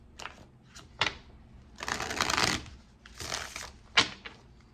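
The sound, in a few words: shuffling tarot cards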